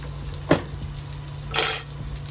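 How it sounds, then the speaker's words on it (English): Sausage cooking on a mini griddle for a homemade McGriddle, a steady low sizzle with a brief spatula scrape and a louder burst of hiss partway through, no talking. "This mini griddle is cooking this sausage."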